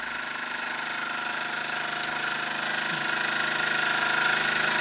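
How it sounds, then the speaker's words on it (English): A Hobbies SE1 model steam engine runs steadily, giving a continuous fast mechanical chatter and hiss at moderate level, close by and alone with no talk, holding an even rhythm throughout. "this is the first Hobbies engine I actually acquired, so it's nice to see it running"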